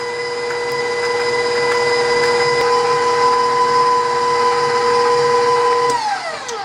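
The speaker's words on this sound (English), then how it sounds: "After about a minute of whipping on medium speed, the butter and sugar has creamed together nice and light and fluffy." An electric mixer whips butter, shortening and sugar on medium speed for cookie dough, a steady motor whine with a scraping, churning texture that runs loudly, then winds down at the end.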